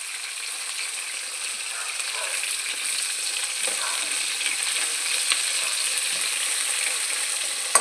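Onions and curry leaves fry in a hot pan with a steady, close sizzle that holds evenly throughout, with no talking.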